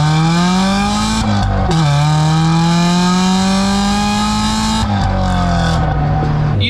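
A Chevy Ecotec four-cylinder swapped into a Mazda Miata roadster accelerates hard and loud, the engine note climbing steadily through the revs with brief dips at shifts, close and continuous with no talking.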